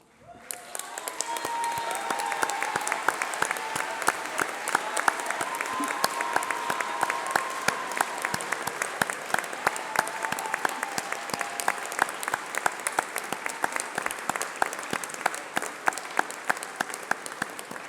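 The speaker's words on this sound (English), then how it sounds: "please stand up while we give you a round of applause." A large audience at a UCLan graduation ceremony bursts into sustained applause, dense rapid clapping that swells quickly and holds steady throughout, with a murmur of voices underneath.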